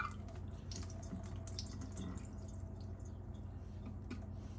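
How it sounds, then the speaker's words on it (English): Water drains from a can of red salmon, trickling and dripping steadily over a low background hum, a continuous pouring with small splashy drips throughout. "I'm going to drain the water out"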